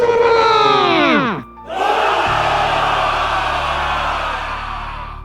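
An army crowd on a battlefield shouts and cheers for King Mara, a loud massed cry that breaks off briefly, then swells into a sustained roar that slowly fades.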